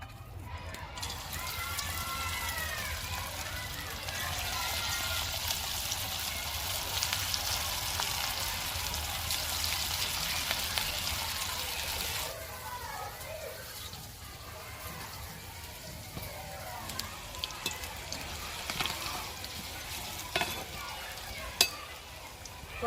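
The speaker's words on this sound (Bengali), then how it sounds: "এবারে পকোড়াগুলো ভেজে নেব" Fig and gandhal leaf pakoras frying in hot oil, a steady, moderately quiet sizzle and bubbling that runs throughout, with occasional small clicks of utensils.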